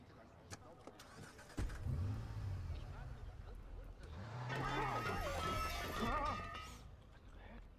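In the Watch Dogs video game, a car engine starts with a short burst, then revs and pulls away with a rising, swelling roar before fading out. Someone talks over the sound.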